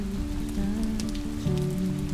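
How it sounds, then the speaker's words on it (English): Rain begins falling in the Scottish Highlands, a steady close patter on surfaces beneath a small overhang, continuous and fairly even for a couple of seconds with no talking. "Starting to rain."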